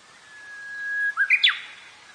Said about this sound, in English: You might even hear uguisu.